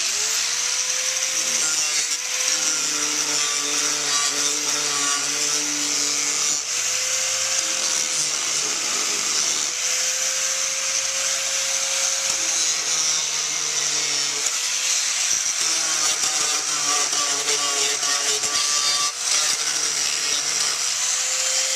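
Steady grinding and sanding on a motorcycle seat edge for a CB200 cafe racer build, smoothing down high spots before body filler goes on; a continuous rasping tool drone with periodic brief pauses and restarts, close and fairly loud.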